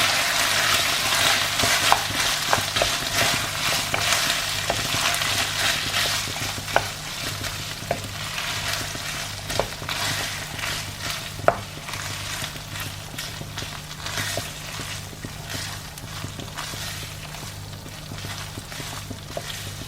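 Mashed and whole black beans are stirred in a pan, a long run of repeated scraping clicks over continuous hiss and a low steady hum, close and moderately loud.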